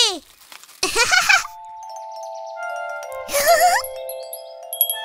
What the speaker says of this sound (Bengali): যদি হাওয়া দেয় তাহলে হাওয়া ঘন্টি বাজবে